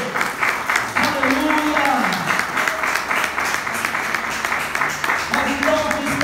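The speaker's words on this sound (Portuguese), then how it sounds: "Aplauda o Senhor" Congregation applauding during a church service, a steady, dense wash of clapping throughout with a voice singing or calling out over it.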